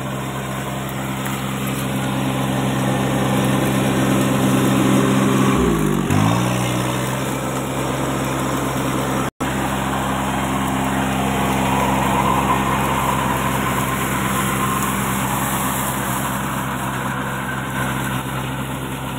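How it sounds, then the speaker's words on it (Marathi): A Kubota 21 hp mini tractor drives a rotavator through field soil, its engine droning steadily and loudly close by, with a brief dip in pitch partway through before the churning load settles back. "आता हा ट्रॅक्टर घेऊन येतो मी, तर बघा 980 RPM माती ह्या पाटातली इकडे उडल्या"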